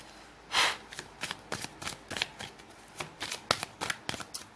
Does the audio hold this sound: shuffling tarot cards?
yes